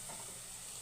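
Tomatoes drop into a frying pan over low flame, giving a brief, soft, even sizzle and hiss with no talking.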